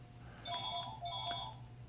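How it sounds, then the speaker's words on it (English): A telephone rings inside a shop, two clear electronic ring bursts in quick succession over a quiet low hum, heard alone without talk. "Oh, now the phone's ringing."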